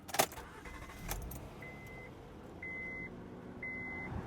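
A car is switched on: keys jangle, and a few electronic chime beeps sound with the faint rumble of the engine starting, all quiet and close.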